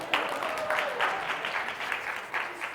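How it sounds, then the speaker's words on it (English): Audience bursts into a short round of applause, brisk continuous clapping at moderate volume, with a voice briefly audible beneath it. "give her a round of applause."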